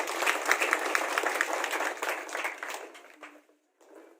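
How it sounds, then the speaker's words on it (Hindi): An audience at a speech and honours ceremony gives a loud round of clapping for people serving in the Himalayas, dense at first, then thinning and fading out to silence before a few final claps. "इनके लिए एक बार जोरदार ताली"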